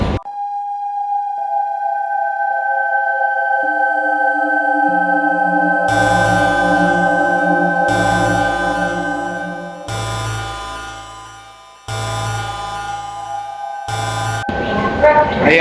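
New York subway J train in a tunnel: electric motors whine in rising tones as the train pulls away, then a loud rhythmic clatter of wheels over rail joints in repeated bursts, with a brief quieter dip near the end.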